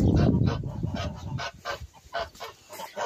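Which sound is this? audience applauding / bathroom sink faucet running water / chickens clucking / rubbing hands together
chickens clucking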